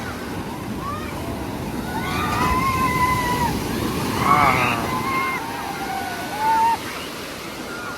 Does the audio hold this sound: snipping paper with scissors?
no